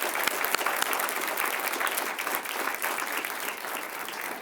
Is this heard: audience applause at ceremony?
yes